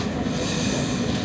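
Interior rumble of an Incheon subway train running, a steady broadband roar with low-frequency rolling noise throughout, loud and close, no talking.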